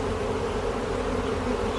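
A swarm of thousands of honeybees entering a hive in a backyard, a dense, continuous buzzing hum at close range, steady and unbroken, with no voices.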